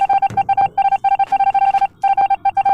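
A phone rings loudly with an incoming call, a rapid electronic beeping tone pulsing in short bursts separated by brief pauses.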